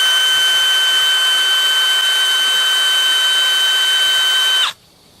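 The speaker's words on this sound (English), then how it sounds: "oftentimes it will start drilling down" A power drill bores steadily into a metal part during a chainsaw rebuild, giving one loud, continuous high whine for about four and a half seconds before it stops abruptly and leaves near silence.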